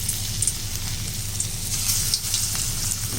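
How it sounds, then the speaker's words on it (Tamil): Masala vadai frying in hot oil in a kadai, a steady close sizzling hiss with bubbling crackles throughout, no talking. "இதை நம்ம எண்ணெயில் போட்டு நல்லா பொரிச்சு எடுத்துடலாம்."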